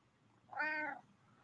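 A pet house cat gives a single short, clear meow close by, with only quiet room noise before and after.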